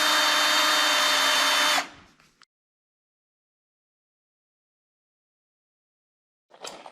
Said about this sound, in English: I want to pre-drill those outer holes where I'm going to put the screws